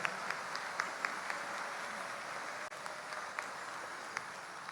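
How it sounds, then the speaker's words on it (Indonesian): A church congregation applauds at a Gawai thanksgiving Mass at St. Mark, Batu Kawa, a steady, moderately distant patter of many hands that holds evenly throughout, with a few sharper claps standing out. "Marilah kita sekali lagi memberi tepukan gemuruh pada mereka."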